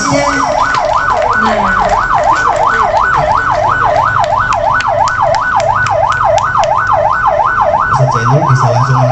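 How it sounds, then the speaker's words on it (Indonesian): An ambulance siren wails in a steady, rapid up-and-down cycle, loud and close, as the vehicle departs from an outdoor religious gathering, with low traffic rumble underneath throughout. "Wah, ini ambulannya langsung berangkat menuju ke kantor PDM."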